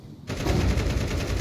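Rapid automatic gunfire in a tactical shooter video game, a dense, loud burst that starts abruptly and continues steadily to the end.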